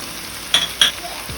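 Coriander powder, chili powder, garam masala and turmeric sizzle in a pan for Tamil Nadu style mutton curry. A steady soft fry runs under two quick, close scrapes of a spoon.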